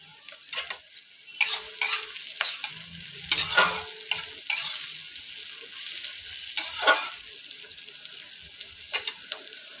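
Crushed ginger and green chillies are stirred in hot oil in a pan, with sizzling and frying hiss under repeated sharp scrapes and clinks of a spatula against the pan, close and intermittent.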